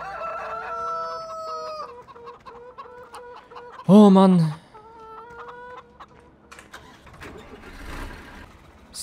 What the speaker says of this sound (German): Da haben wir jetzt wenigstens die Hühner wieder ein bisschen beruhigt.